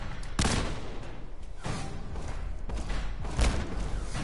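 Grenade going off in Fallout 4's Nuka-World, with a sharp, heavy thump up front and a second blast a few seconds later over a rumbling, noisy background.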